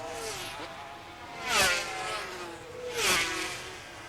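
Two 500cc Grand Prix racing motorcycles scream past in turn on the circuit at the 1987 Yugoslavian Grand Prix, each engine pitch rising and then dropping as it sweeps by near and loud over a continuous engine drone.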